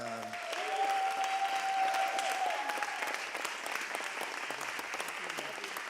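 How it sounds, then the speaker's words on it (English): Audience applause at a church dinner gathering, a dense, sustained wash of many hands clapping, moderately loud and steady, with a brief tonal ring near the start. "Would you join me in just giving one more round of applause again?"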